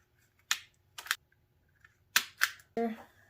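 Wire for KC Flex Era 3 SAE lights on a Jeep Gladiator is trimmed with cutters, giving several sharp, close clicks and snips in pairs, with a brief bit of talk at the end.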